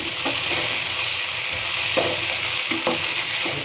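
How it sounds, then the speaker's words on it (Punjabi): Chopped bitter gourd frying with browned onions in a pan, a steady loud sizzle broken by a few scraping stirs as the pieces are mixed, no talking. "ਹੁਣ ਆਪਾਂ ਇਹਦੇ ਵਿੱਚ ਜਿਹੜੇ ਕੀ ਆ ਕੱਟੇ ਹੋਏ ਕਰੇਲੇ ਐਡ ਕਰਾਂਗੇ ਤੇ ਇਹਨਾਂ ਨੂੰ ਚੰਗੀ ਤਰ੍ਹਾਂ ਮਿਕਸ ਕਰਾਂਗੇ"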